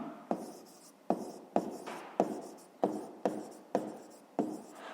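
Pen writing by hand on paper during a fifth-grade maths exercise: a steady run of scratchy strokes, each starting with a sharp tap and fading out, repeating about every half second, close and clear, with no voices.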